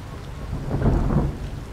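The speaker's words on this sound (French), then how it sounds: "Il pleut dans le jeu." Video game rain falls steadily with low rumbling, swelling slightly in the middle, an even wash of stormy weather with no voices.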